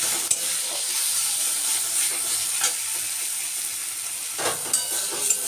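Steady sizzling of water spinach (kalmi greens) frying in a pan, with soft stirring scrapes and a few clinks, no voices.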